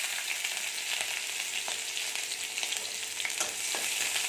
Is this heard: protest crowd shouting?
no